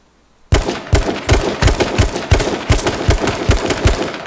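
Rapid bursts of gunfire in H1Z1, about eight evenly spaced sharp shots after a brief quiet start, loud and close with a ringing tail between them.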